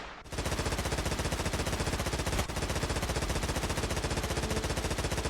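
Sustained rapid automatic gunfire from a weapon in the video game Stormworks, a dense continuous rattle of evenly spaced shots, loud and close, with a brief break midway before the burst resumes.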